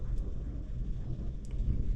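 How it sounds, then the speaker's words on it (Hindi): Low, continuous rumble of distant thunder rolling steadily, with faint rain-like hiss above it. "बादल गरज रहे हैं"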